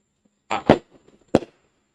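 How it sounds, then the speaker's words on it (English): Fireworks shot off at a CFL football stadium during a BC Lions vs Montreal Alouettes game: a few sharp, booming pops in quick succession, moderately loud with short gaps of quiet between them. "They're still shooting fireworks."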